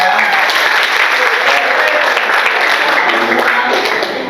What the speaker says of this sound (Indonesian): Tepuk tangan dulu buat kalian ya.